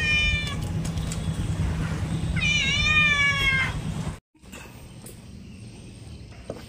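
A cat meows clearly and close by near a river estuary by a forest during a fishing trip, one short call followed by a longer drawn-out meow, over outdoor ambience before a brief dropout.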